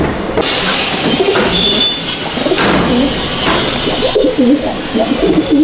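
A male old-line Madrasi pigeon coos in short warbling phrases inside a loft in Rajarhat, Kolkata, over a loud, continuous rumble and squeal of a passing train nearby.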